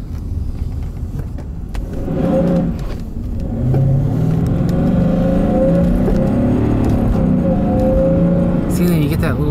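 Mercedes-Benz W140 S500 with a V8 engine, a big-body saloon, driving along with a steady engine hum and rising revs beneath it, while someone talks over it throughout.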